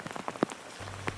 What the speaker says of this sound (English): The torrential downpour leading to flash flooding.